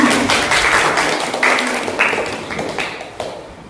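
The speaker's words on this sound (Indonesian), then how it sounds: "tepuk tangan untuk Mirna" Classroom applause for a student named Mirna, a short burst of scattered clapping from pupils that quickly tapers off.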